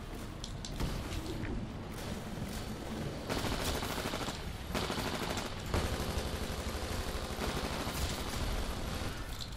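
Rapid bursts of gunfire in the video game Titanfall crackle almost nonstop, dense and loud throughout, with sharper volleys standing out now and then.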